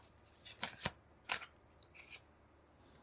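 Tarot cards are pulled from a deck in a few quick, sharp papery swipes and flicks, close and faint, with pauses between them.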